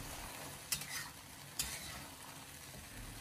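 Eggplant stir-fried in a wok with a spatula, a soft, quiet frying hiss broken by two distinct metallic scrapes of the spatula against the pan.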